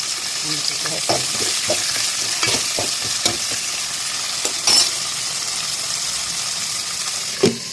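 Brinjal curry sizzles and fries in a pan while a spoon stirs it, with a steady hiss under repeated close scraping and clinking strokes against the pan, no talk.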